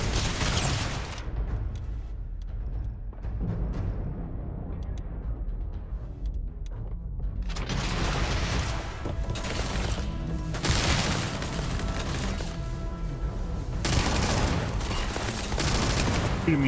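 Gunfire from a heavy-kicking gun in the space shooter game Starfield, a dense, continuous barrage of shots and booms that roars loudly through most of the stretch, briefly thinning near the start before building again.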